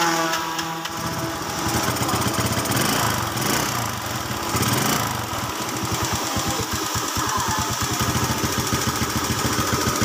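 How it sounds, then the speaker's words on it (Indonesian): A Yamaha Mio Sporty scooter with a worn carburettor cranks and fires up after a poor electrical connection was fixed. Its close, loud engine settles into a rapid, pulsing putter that runs steadily to the end. "Sekarang sudah bisa di starter kembali."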